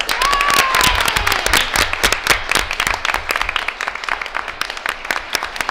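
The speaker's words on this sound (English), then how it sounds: "Please come on up here and we'll give you a round of applause" An audience at a school board of education meeting applauds a district competition winner called up front, a dense sustained clapping that stays loud for the whole stretch, with a brief whistle near the start.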